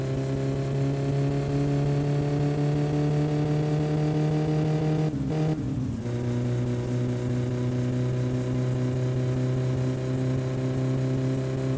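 Satsuma car engine cruising on a highway in the game My Summer Car: a steady, loud mid-pitched drone that holds constant, dips and shifts briefly midway, then settles back into the same even hum.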